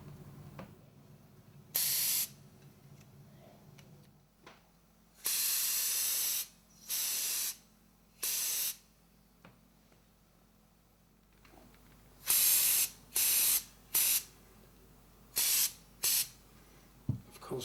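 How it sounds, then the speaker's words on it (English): Short bursts of brown acrylic paint sprayed from a can onto the lower part of a model fuel wagon during weathering, about nine separate hissing blasts of one to two seconds each, close and loud, with quiet pauses between them. "I'm going to spray some brown acrylic onto the lower part of the wagon"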